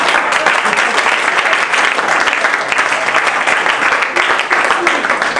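Steady, dense applause from a stand-up comedy audience fills the room, loud and continuous without pause.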